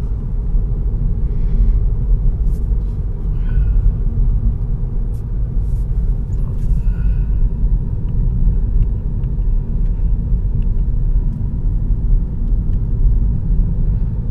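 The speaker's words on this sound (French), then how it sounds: "Donc là je suis en mode tout électrique et on voit le contour qui indique la charge qu'on utilise. Donc évidemment on n'a que le bruit du roulement." Tyre rolling noise from a VW Golf 7 GTE plug-in hybrid driving in all-electric mode, a steady low road rumble that stays close and constant, with only a few faint higher ticks and no engine sound.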